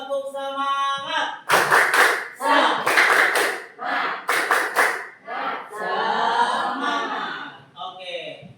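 Children perform the tepuk semangat clap routine, crisp sharp claps in grouped rhythmic bursts, loud and close, interleaved with voices chanting and a little laughter.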